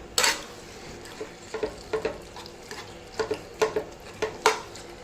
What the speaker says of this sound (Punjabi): ਇਸ ਤਰ੍ਹਾਂ ਤੁਸੀਂ ਕੜਛੀ ਜਾਂ ਮੈਸ਼ਰ ਲੈ ਕੇ ਇਹਨਾਂ ਨੂੰ ਹਲਕਾ ਹਲਕਾ ਜਿਹਾ ਮੈਸ਼ ਕਰ ਲੈਣਾ ਹੈ